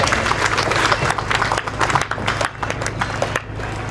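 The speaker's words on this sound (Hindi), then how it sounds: "हम लोग जोरदार तालियों से अपनी कृतज्ञता प्रकट करें" A crowd applauds vigorously in a dense, continuous burst at the annual Feast of Our Lady of Guadalupe church celebration, with loud overlapping claps briefly dipping and swelling over about four seconds.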